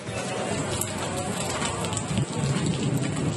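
Heavy rain falls in a thunderstorm in Chitradurga district, Karnataka, as a loud, unbroken roar of downpour with low rolling thunder underneath and no one speaking.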